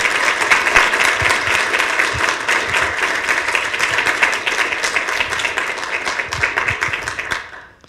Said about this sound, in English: Wow, that clapping sound is so cool.